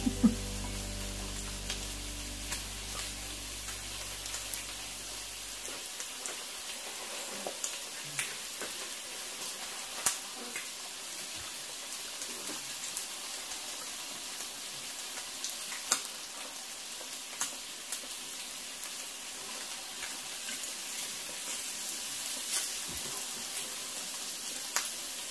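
Pork fries on a Thai moo kratha grill, a soft, steady sizzle with occasional small pops and crackles. A low hum fades out early, and the sizzle then carries on alone at a modest level.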